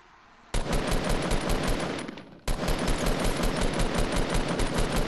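Rapid automatic gunfire rattles at a soldier in two long, loud bursts separated by a brief lull, with each shot closely packed in a steady rhythm.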